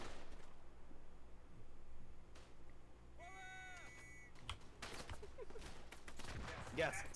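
Machine gun fire bursts out in a First World War shooter set at Verdun, scattered rattling shots in the second half amid battlefield noise, with a rising whistle-like tone just before.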